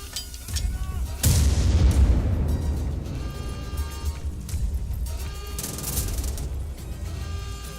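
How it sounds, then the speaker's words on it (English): A grenade detonates in a video game with a sudden heavy boom and a long rumbling decay, followed by scattered gunfire and a second sharp blast, all loud and close. "He's gonna throw a grenade."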